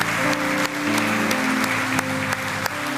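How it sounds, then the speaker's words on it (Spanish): Steady congregation applause fills a Spanish-language church service, dense and continuous over a bed of sustained music tones, with a few sharper claps standing out. "Fuerte el aplauso al que da la sabiduría"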